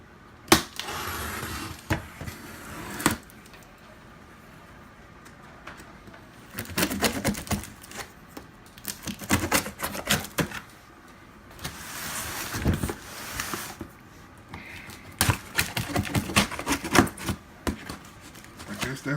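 Butter knife sawing and slicing through the cardboard box of a Ryobi 2900psi pressure washer during unboxing, with bursts of scraping and tearing in irregular stretches, close and fairly loud, with some talk between them.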